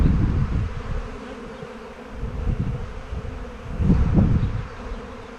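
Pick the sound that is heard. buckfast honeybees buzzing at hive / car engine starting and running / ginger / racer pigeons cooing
buckfast honeybees buzzing at hive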